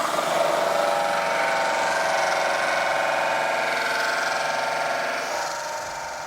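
A continuous grinding, whining power-tool drone holds steady and loud, then eases slightly near the end.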